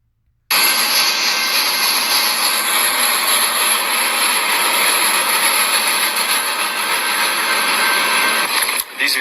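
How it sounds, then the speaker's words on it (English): United States Army Stryker vehicles, a loud steady engine roar with a high whine that starts abruptly and holds at constant level for about nine seconds, dipping slightly near the end. "These vehicles here are United States Army Stryker vehicles"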